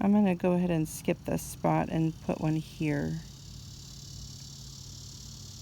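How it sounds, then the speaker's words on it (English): A steady high-pitched buzz of cicadas in an Oklahoma summer hangs in the background, under a person talking and then continuing alone once the voice stops. "It's summertime in Oklahoma and the cicadas are noisy."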